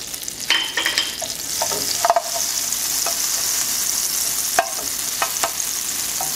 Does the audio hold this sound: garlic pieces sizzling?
yes